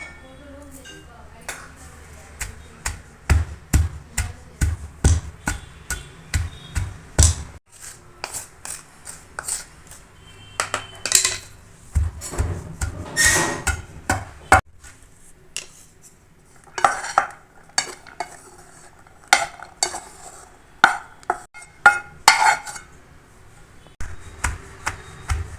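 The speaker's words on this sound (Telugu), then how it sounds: "చూసారు కదా, ఇలాగ దంచేసుకోవాలి." Garlic, salt and dried red chillies with carrot pounded in a stone mortar for chutney: repeated sharp knocking strikes in irregular bursts, with grinding scrapes between them, close and fairly loud, no talking.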